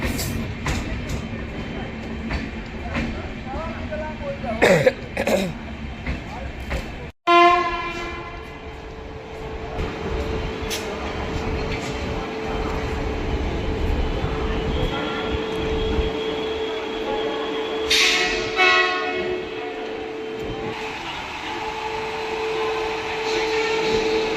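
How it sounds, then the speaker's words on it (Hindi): The Indian Railways Mahamana Express rolls past with loud, sustained horn blasts over a continuous heavy rumble of wheels and carriages. "और उसके साथ आ रही है ये महामना एक्सप्रेस"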